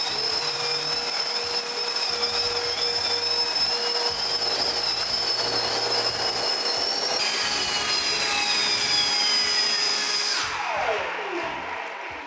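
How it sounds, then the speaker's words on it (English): A radio-controlled VTOL jet model with its jet engines running for vertical takeoff, giving a loud, continuous high-pitched turbine whine with shifting tones that sweeps downward and eases near the end. "I switch into VTOL mode. Now the engines are running"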